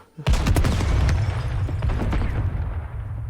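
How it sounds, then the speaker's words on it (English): An explosion in a video game booms loud and sudden, with a crackling burst and a rumbling tail that fades slowly over a few seconds. "Oh my God, was that an explosion?"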